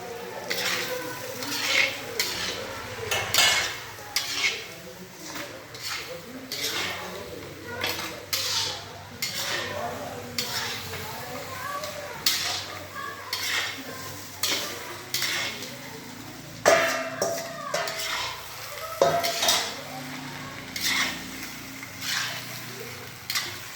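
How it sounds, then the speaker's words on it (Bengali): Food being stirred and sautéed in a pan with ghee, repeated metallic scraping and clinking of a spoon against the pan in an uneven rhythm, close and fairly loud over a faint sizzle. "ভালো করে কষে নিচ্ছে ঘি দেওয়া হলো এবার"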